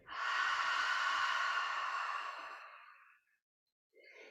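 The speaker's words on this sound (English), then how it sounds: "return to your next big breath in. And slow breath out" A long, slow exhale during a yoga session, a soft breathy rush that swells, holds, then fades out over a few seconds, close and alone, followed by a short faint breath.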